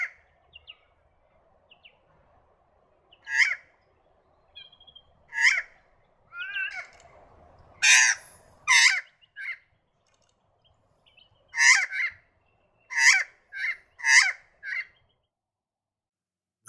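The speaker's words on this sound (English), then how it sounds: "The Australian magpie, found in southwest Western Australia," An Australian magpie in southwest Western Australia calls with scattered, clear warbling and fluting notes, some short and some in quick clusters, set against a quiet outdoor background.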